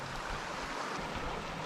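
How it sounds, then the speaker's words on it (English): Creek water rushes steadily at a bush creek crossing on a day hike to Goochs Crater in the Blue Mountains, New South Wales, a close, even wash of noise with no voices. "this is the creek crossing."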